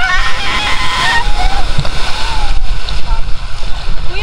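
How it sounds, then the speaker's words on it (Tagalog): A tour boat rides through strong waves off El Nido, Palawan, with loud, continuous rushing water and slapping spray, and voices calling out over the churn. "Malakas yung alon, kuya."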